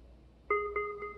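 Bluetooth speaker pairing sound, a quick three-note electronic chime with clean sustained tones, close and clear against faint room hiss.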